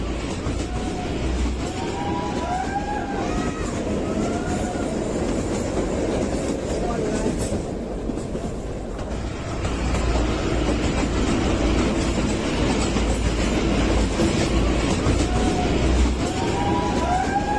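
A train on the Shimla-Kalka rail line runs through snow with a steady rumbling roll and clickety-clack of wheels over the rails. Faint squeals sound throughout, and a voice talks over the train.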